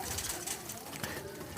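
Diamond doves coo softly while eating green food, the low calls blending into a steady, busy background of rustling and chatter.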